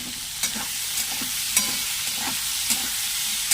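Whole cumin and panch phoron seeds sizzling in hot oil, a steady bright hiss broken by several sharp pops and spatters spaced about half a second apart.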